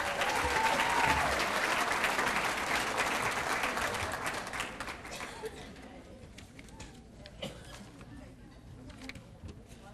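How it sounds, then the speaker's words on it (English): Audience applause at an employee recognition ceremony for long-serving school staff, loud dense clapping that tapers off over several seconds into scattered claps and room noise, with voices audible underneath. "One more big round of applause."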